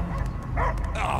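A dog barks in a Guardians of the Galaxy video game scene, a few sharp yaps close and fairly loud over a low droning game backdrop.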